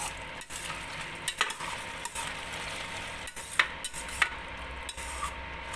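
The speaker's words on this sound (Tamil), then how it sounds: "அதையும் ஒரு டைம் நல்லா கிளறி விட்ருங்க" Mushroom gravy with coriander is stirred in a pan, giving quiet scraping strokes and soft taps over a low simmer.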